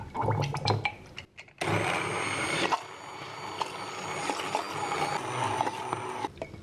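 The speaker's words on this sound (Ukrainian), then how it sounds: "І тепер все це збиваємо погружним блендером." An immersion blender whirs steadily for several seconds mixing a dessert batter with lemon juice, its motor starting abruptly after a few brief kitchen clatters, then cutting off near the end.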